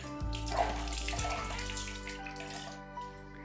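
Tap water runs steadily into a small tub as a Barbie doll's face is washed at bath time, a continuous soft trickle with faint music-like tones beneath and no talking.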